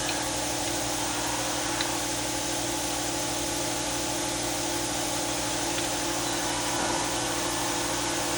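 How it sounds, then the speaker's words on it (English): Steady, loud mechanical drone of an air compressor running continuously in a garage beside a 1969 Oldsmobile Vista Cruiser, with no voices over the noise. "Sure the compressor's keeping you company."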